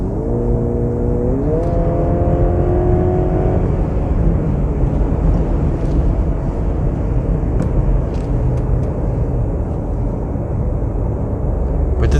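Steady engine hum of a 2023 Mercedes GLC 400e plug-in hybrid SUV in sport mode, partly speaker-generated, with a tone that rises in pitch, then settles into a constant, close drone with no talking.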